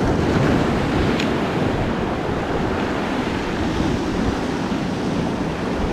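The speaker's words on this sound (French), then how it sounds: "les grosses vagues en plus" Large ocean waves break on the shore at a sea bass fishing spot in December, a loud, continuous roaring wash of surf with wind noise on the microphone.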